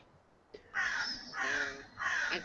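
A crow caws three times in a row outdoors, harsh drawn-out calls at a moderate distance with short pauses between them.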